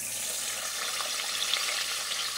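Chicken tenders fry in vegetable oil in a frying pan, a steady, dense hiss and crackle that holds level and close throughout with no voices.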